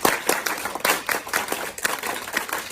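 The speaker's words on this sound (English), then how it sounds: "students fill in the B-Wing Hall and do the Eagle Clap" Students crowded into a school hallway on game-day morning doing a rhythmic group clap, with loud, sharp bursts repeating in a fast, regular pattern and echoing close by.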